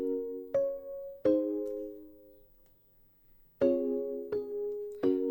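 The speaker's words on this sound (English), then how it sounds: "The first thing you have is this bell pluck." Bell plucks from a Music Box preset in Native Instruments' Ignition Keys ring out as bright, chime-like notes in separate groups, each ringing and slowly decaying, with a short gap of near silence in the middle.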